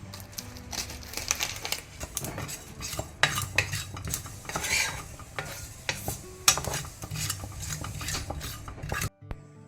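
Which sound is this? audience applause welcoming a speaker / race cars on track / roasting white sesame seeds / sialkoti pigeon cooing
roasting white sesame seeds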